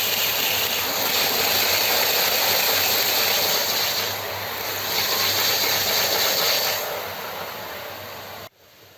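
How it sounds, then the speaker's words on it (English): A Hornby Pendolino OO gauge model train runs fast on a long layout with broad curves, giving a continuous loud whirring, rumbling drone with slight swells before cutting off abruptly near the end. "I can run the Pendolinos pretty quickly because the curves are nice and broad."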